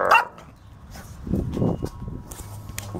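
A dog outdoors on an Italian property gives a sharp bark at the start, then low rumbling growls and scuffling sounds with faint footsteps, fairly close, with no talking.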